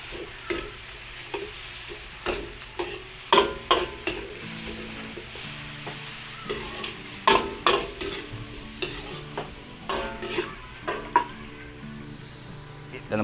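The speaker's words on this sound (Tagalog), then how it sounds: "Sasangkotsahin po muna natin yung karne. Hanggang sa medyo mag-brown." Pork being seared in a pan until it browns, a steady low sizzle broken by frequent scraping and stirring clacks of a utensil against the pan, close by with no talking.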